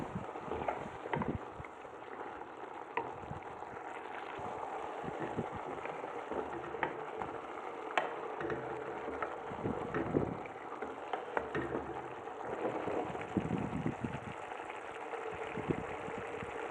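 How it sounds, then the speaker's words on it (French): Rice dish simmering in a pan for oven-baked rice, a steady close bubbling and sizzling texture with scattered small pops and ticks running throughout, no voices. "Et on laisse mijoter quelques minutes, environ 5 à 8 minutes"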